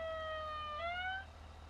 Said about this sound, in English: Let's turn off that because we don't have the siren anymore.